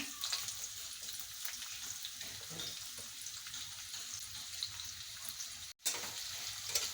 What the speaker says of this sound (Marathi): कढईमध्ये तेल घातलेलं आहे आता कांदा घालायचा पहिल्यांदा